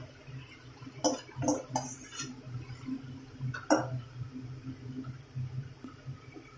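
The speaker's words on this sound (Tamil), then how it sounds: "கட் பண்ணி வச்ச தக்காளியை சேர்த்துக்கரலாம்" Chopped tomatoes tip into a pan of red chilli and tamarind paste for a tomato relish, with a few sharp metal spoon clinks and scrapes against the pan over a low, soft sizzle.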